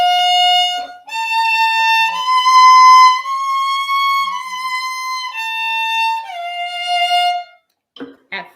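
Solo fiddle working through a shifting exercise from Suzuki Book 2, a string of sustained bowed notes that slide up to higher positions and back down, played close and clear with a few soft bow noises after the last note.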